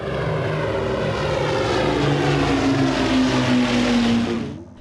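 Vintage propeller airplane engine droning loudly and steadily at close range, a continuous throbbing roar with a rising whine that holds for nearly five seconds before cutting off, at an aircraft museum in Toronto.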